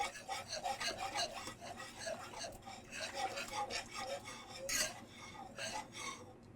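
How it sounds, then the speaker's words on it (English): Whisk working through a broccoli cheddar soup mixture in a pot: repeated quiet scraping and swishing strokes in an uneven rhythm, close by, with no talking. "take a whisk and get all that incorporated."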